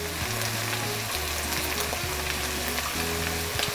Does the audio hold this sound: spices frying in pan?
yes